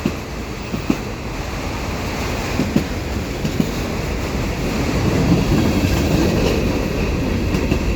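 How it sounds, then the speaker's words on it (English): A CP mixed freight train rolls close by Valois Station, a loud, continuous rumble with rhythmic clickety-clack wheel beats and occasional metallic knocks, no voices. "The train's pretty loud."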